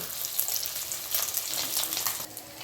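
Koi fish frying in hot oil for a Bengali-style tel koi dish, giving a steady, close crackling sizzle that holds throughout without any talk.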